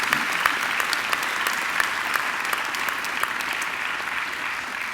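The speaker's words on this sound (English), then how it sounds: "I think they deserve a round of applause too." Steady audience applause at a university graduation ceremony at Macquarie, a dense even patter of many hands clapping throughout, moderately loud and continuous without talk.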